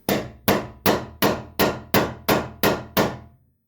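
A talking drum is struck during a sound check: nine evenly spaced, sharp strikes, each decaying quickly, sounding close and alone with no voices.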